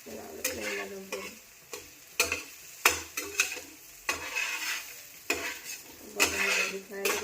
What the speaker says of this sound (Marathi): जोपर्यंत ते पूर्ण तेल सोडायला लागत नाही ना तोपर्यंत भरीत बनवावं लागतं